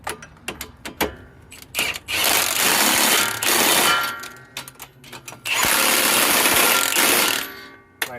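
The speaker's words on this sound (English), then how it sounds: "Where's my impact gun?" Pneumatic impact gun tightening the bolts on a driver side strut assembly, with two long sustained bursts of loud ratcheting hammering, each a couple of seconds, separated by shorter clanks and tool handling.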